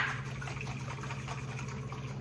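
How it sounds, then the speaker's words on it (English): A small splash of water pours into the bottom of a jar of peppers during meal prep, a brief soft liquid fill over a low steady kitchen hum. "I usually just add a little splash into the bottom of this jar."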